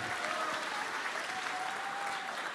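A large crowd at a lively election-night show in a Paris concert hall applauds steadily, a dense wash of clapping with faint cheering, continuous and fairly distant.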